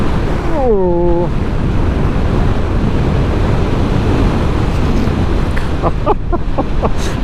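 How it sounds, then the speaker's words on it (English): Steady, loud wind roar buffets the microphone of a rider on a Honda CB500X motorcycle touring Scotland's North Coast 500 between Kinlochewe and Aultguish Inn, continuous throughout with a few brief whistling tones over the rushing noise. "I'm very conscious of making a lot of strange noises, but it's the flipping wind."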